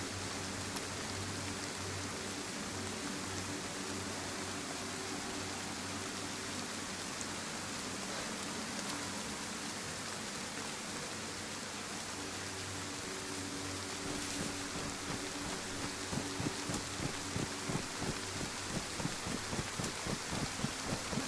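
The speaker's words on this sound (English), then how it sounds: "rain for getting on for an hour now" Steady rain falling outside, a continuous even hiss of drops that runs throughout, with a faint low hum and a gently pulsing rhythm in the later part.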